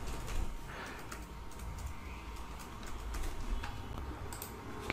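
A root password being typed on a computer keyboard, quick irregular key clicks in short bursts, close but faint over a soft background hum.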